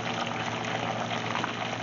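Frozen Lake Erie yellow perch frying in a pot of hot oil, a dense, steady bubbling hiss at moderate volume with no pauses.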